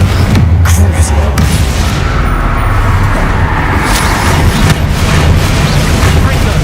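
Spell explosions from Bombarda and Confringo in the video game Hogwarts Legacy, a dense, continuous wash of booming blasts and rumble with no clear gaps, loud and close throughout.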